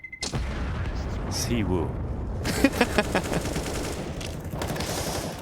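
Bursts of automatic rifle fire hit a wall in a CS:GO match, loud and rattling in quick strings, with a caster talking over the action.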